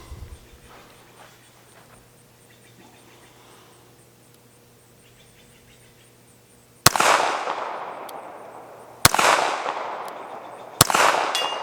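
Three loud, sharp Beretta 1934 subcompact pistol shots fired outdoors at a distant steel head target, each a sudden crack with a lingering echo tail, spaced about two seconds apart after a stretch of quiet ambience.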